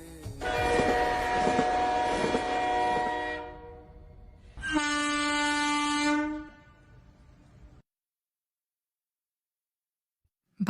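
Train horn blasts sound loud and close, one long sustained blast followed by a second after a short gap, with rumbling rail noise beneath.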